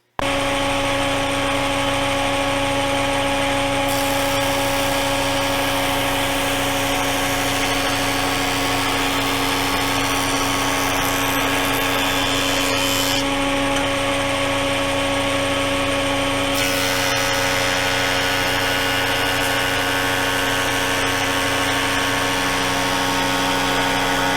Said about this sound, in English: The rest of it we can do with the thickness planer